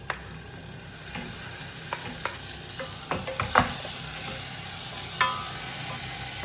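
Chopped tomatoes go into onions frying in a pan for an egg curry, giving a steady close sizzle broken by scattered clicks and scrapes of a spoon stirring the mixture.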